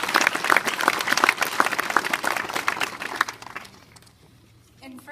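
A round of applause for a teacher at a school class-history event, with a burst of clapping from an audience that is loud at first and then thins out and fades after about three seconds, leaving quiet room noise.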